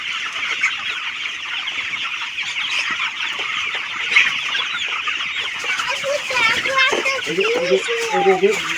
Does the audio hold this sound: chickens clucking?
yes